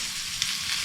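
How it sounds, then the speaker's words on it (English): Finely chopped garlic, three cloves, is stirred into a hot pan already frying aubergine, onions and courgette, making a brief, even, close sizzle. "3 cloves of garlic, chopped up finely. And we'll stir that in quite quickly and just start to cook it."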